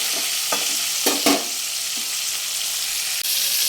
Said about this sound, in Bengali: ফুলকপিটা ভালো করে লাল লাল করে ভাজতে হবে